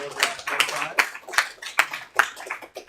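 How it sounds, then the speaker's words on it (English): Sparse clapping from a small group at a medical journal club on endovascular stroke therapy, a handful of distinct claps at an irregular pace spread over a few seconds, with soft voices underneath. "let's give them both a hand for doing very well"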